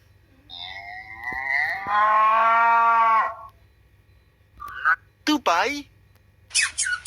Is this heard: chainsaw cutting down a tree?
no